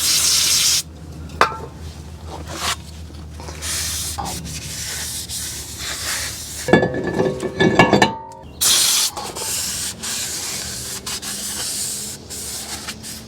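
Short hissing bursts of brake cleaner sprayed onto a rag alternate with rubbing and wiping sounds close by, with brief clinks in between, during a Ford Escape front brake job.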